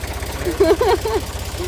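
A tractor engine chugs in a steady low rhythmic thump throughout, while a voice speaks briefly over it.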